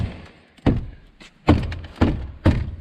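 A Jaguar door card is banged into place by hand, giving four sharp, heavy thunks spaced unevenly over a few seconds, close and fairly loud, with no talking.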